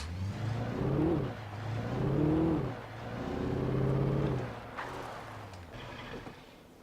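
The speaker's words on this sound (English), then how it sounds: "I guess I'll just drive down there then." Car engine from the video game Alan Wake, a steady mid-level drone that rises and falls in pitch as the vehicle accelerates and eases off, with a few brief clunks near the end.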